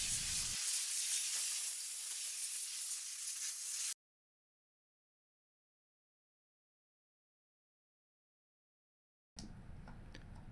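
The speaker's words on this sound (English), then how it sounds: "blow any debris out of the pockets" Compressed air blasts debris out of the knife pockets of a planer cutterhead, a steady loud hiss in two bursts separated by a long silent gap, with no voices.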